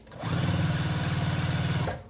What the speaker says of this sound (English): I just sewed those together